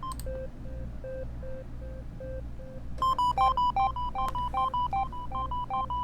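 Delay effect on a Roland PM-8 rhythm machine, first at normal time, then at double time: sparse, evenly spaced electronic beeps repeat, then a brighter, busier pattern of tones with trailing echoes joins in.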